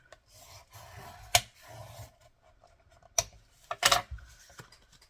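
A paper card folded in half and pressed into a firm crease for a sunflower journal: soft close rubbing and sliding of paper, with a few sharp rasping swipes as the fold is smoothed down, in an otherwise quiet room.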